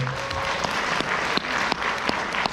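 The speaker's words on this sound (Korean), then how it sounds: "박수 한번 주십시오." Audience applause at a company seminar held at a resort, steady dense clapping with a few sharper claps standing out, continuous for the whole stretch.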